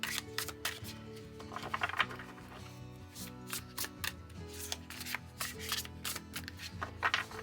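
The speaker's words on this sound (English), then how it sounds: "Yeah, it shuffles really well. I like the way it shuffles." Star Seeker tarot cards are shuffled in quick, papery bursts of riffling and sliding, close and fairly quiet, with short pauses between handfuls.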